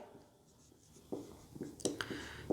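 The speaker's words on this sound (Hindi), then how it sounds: "एक एक लाइन में आपको लिख के बताऊंगा" A teacher writing notes on a board in a classroom, quiet scratching strokes that turn into a run of sharp taps and scrapes in the second half, close and alone without talk.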